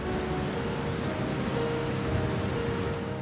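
Heavy monsoon rain pours steadily over Panaji, Goa, a dense continuous hiss of drops drumming on surfaces, loud and unbroken with no voices.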